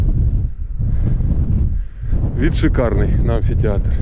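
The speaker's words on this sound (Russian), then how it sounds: "Очень сильный ветер." Strong wind blows hard across an open hilltop near an ancient amphitheatre, a constant low roar of buffeting against the microphone, with someone speaking briefly over it toward the end.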